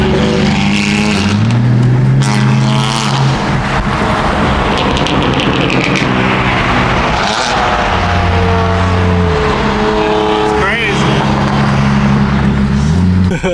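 A Toyota Supra in Sport Plus mode revs its engine and exhaust loudly and continuously, a deep droning roar that rises and falls in pitch across the whole stretch.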